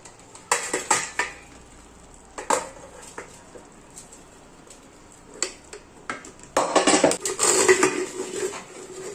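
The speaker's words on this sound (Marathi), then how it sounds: "गरम असताना जर आपण पुरण बारीक केलं ना तर पटकन बारीक होतं." Hot cooked puran, a lentil filling, is pressed with a metal puran masher, giving scattered clinks and knocks against the pot, with bursts of quick tapping and a busier stretch of clatter near the end.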